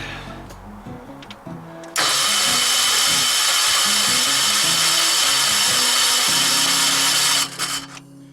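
A small engine on a Terramite compact backhoe cranks over steadily with a loud, even churning whir running about five seconds, without catching, after a short stretch of quieter rattling and clunks.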